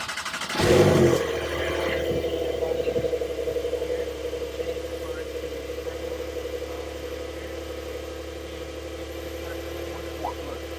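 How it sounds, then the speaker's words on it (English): A Porsche 911 Carrera 4S engine cranks and fires with a brief loud burst, then settles into a steady low idle rumble that carries on throughout. "Yeah, that's how you start the car."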